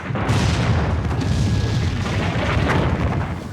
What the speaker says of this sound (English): So this is a solid shot.